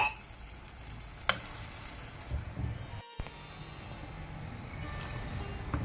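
Curry masala frying in hot oil in a pan for a Mangalorean cora fish curry with raw mango, a steady close sizzle with occasional stirring clatters throughout.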